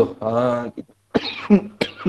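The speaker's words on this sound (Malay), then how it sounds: "Alamak, dah start batuk pula" A teacher coughs several times in a row during a maths lesson. The coughs are short and harsh, close to the microphone, with a brief voiced sound between them.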